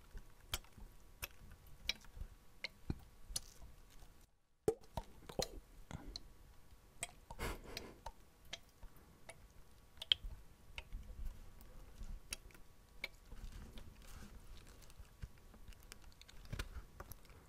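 Fingertips tap on a plastic Fiji water bottle filled with sparkling water, giving a steady run of soft, close, faint clicks and taps, with a brief pause in the middle.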